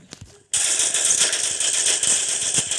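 Rapid gunfire crackles without pause from the M1887 shotgun in the video game Critical Ops, a loud, dense burst of shots that starts abruptly after a short quieter lead-in.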